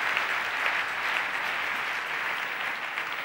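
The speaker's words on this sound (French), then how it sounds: "Là, vous pouvez applaudir" A church congregation applauds during a sermon on church growth, producing steady, even clapping from a crowd, fairly loud and continuous without any voices over it.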